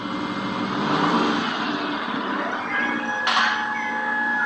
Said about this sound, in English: let's make the car sound go longer